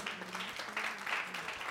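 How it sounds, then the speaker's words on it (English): Guests at an 80th birthday party clap in a brief, fairly faint burst of applause while a voice hums or speaks low underneath. "A round of applause for Uncle, ladies and gentlemen."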